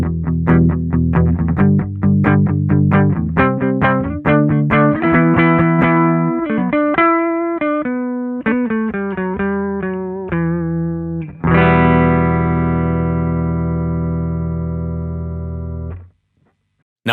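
A clean electric guitar plays a series of picked notes and chords, ending on a long ringing chord that stops abruptly.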